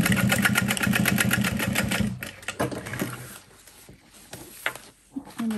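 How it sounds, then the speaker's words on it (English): A sewing machine stitches a line across backpack fabric, running in a rapid, steady mechanical patter for about two seconds before stopping. Soft handling clicks and rustles follow. "I'll go ahead and just sew a line of stitching down across that"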